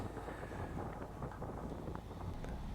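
Gusty wind buffets the microphone on the upper deck of a boat, a low, rumbling, uneven roar that stays loud and close for a few seconds with no voices.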